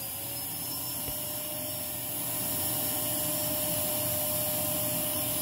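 A Lindhaus Aria Elite vacuum cleaner runs at close range during a suction test, a loud steady motor roar with a high whine and airy hiss that swells slightly midway and holds through to the end, with no talking.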